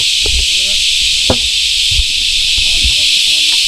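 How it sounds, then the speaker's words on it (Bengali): Crickets at a waterside fishing spot drone in a loud, unbroken high shrill that fills the whole span, with people talking over it close by. "আর ঝিঝি পোকার ডাক শুনুন"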